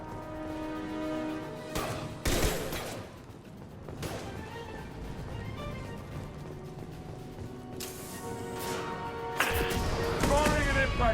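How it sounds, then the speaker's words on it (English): Impact shot gunfire in Mass Effect, with several sharp, loud weapon bursts punctuating a busy combat soundscape under speech. "Firing an impact shot."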